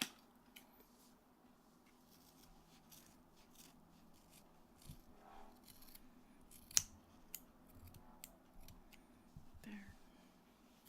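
Scissors snip through long hair in a quiet, close-miked soft-spoken setting, giving a series of faint, crisp cuts scattered across the stretch with a few sharper clicks, under low murmuring and handling noise.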